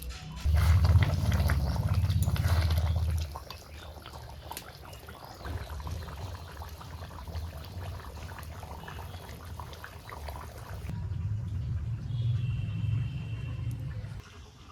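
Chicken curry bubbling in a pot, a loud, close rolling boil at first that settles into softer, steady simmering bubbles, then swells again near the end, with no one speaking.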